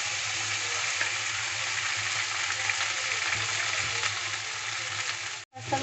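Pasta frying with onions in a pan over medium heat gives a steady, dense, close sizzle with a low hum beneath. No one speaks, and it cuts out briefly just before the end.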